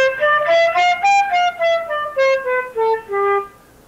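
Flute played with a beginner's embouchure pressed against the teeth gives a short phrase of about a dozen separate notes, each slightly breathy and thin, close and clear with no talk.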